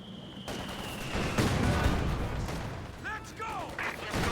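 An 82mm mortar fires in a Company of Heroes 2 battle. Booming blasts and rumbling impacts build in the middle of the clip, over a busy background of battlefield noise.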